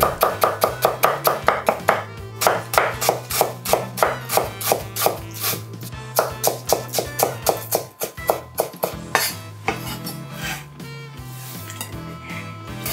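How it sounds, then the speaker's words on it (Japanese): A knife thinly slices a thick myoga bud, halved lengthwise, on a cutting board: a fast, steady run of crisp, close, loud chops with sharp wooden knocks, briefly pausing and resuming with a slightly looser rhythm. "縦に真っ二つにした後に薄切りにする"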